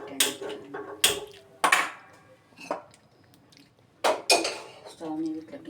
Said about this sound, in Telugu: తర్వాత స్టవ్ మీద ఇట్లా గిన్నె పెట్టండి.